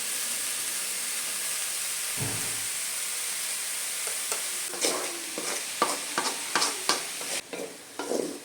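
Sliced onions fry in a pan with half a teaspoon of salt for egg bhurji, a continuous soft sizzle that picks up bursts of scraping spatula strokes in the last few seconds, near and alone.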